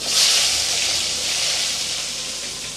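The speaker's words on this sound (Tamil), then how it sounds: "இப்போ இதுலேயே ஒரு பெரிய வெங்காயம் பொடியாக கட் பண்ணி வச்சுருக்கேன் அதை சேர்த்துடலாம்" Finely chopped large onion tipped into hot oil for South Indian sambar sets off a bright, steady sizzle and hiss, close and continuous, easing slightly over a few seconds.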